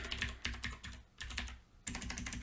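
Quick, close keystrokes clatter on a computer keyboard while someone writes Python code, coming in rapid bursts with two short pauses.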